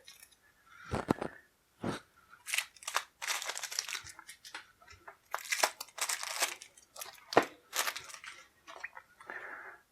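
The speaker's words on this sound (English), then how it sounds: "Go ahead and unwrap these things." Plastic wrap is torn and peeled off the card decks of a D&D Castle Ravenloft board game, giving close, bursty crinkling and crackling with short tearing rips and gaps between handfuls.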